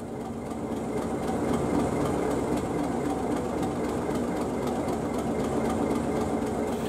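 A Class 37 diesel locomotive idles in the Trainz simulator, its engine giving a steady, loud, continuous rumble with a low throb throughout, no voices.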